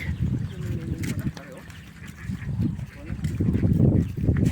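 Ducks at a farm with fish ponds quack and honk in uneven bursts nearby, mixed with people talking.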